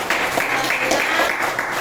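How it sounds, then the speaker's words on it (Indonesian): Scattered clapping from a small classroom group, a steady patter of hands at moderate volume filling the short stretch without talk. "Oke, beri tepuk tangan ya pada hari ini."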